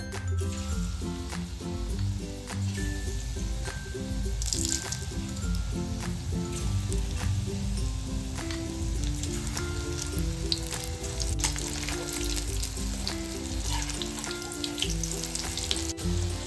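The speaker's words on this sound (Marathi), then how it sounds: "अशाच ना आता आपल्याला बाकीच्या मिरच्या सुद्धा फ्राय करून घ्यायच्या" Green chillies frying in a little oil in a pan, a dense, loud, continuous sizzle with wet popping and crackling throughout, plus a few faint clinks, no voices.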